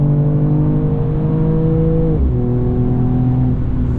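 Mercedes-AMG CLS 53 Night Edition 4MATIC engine droning steadily under load, with a quick dip in pitch at a gear change before pulling on again, loud and continuous from inside.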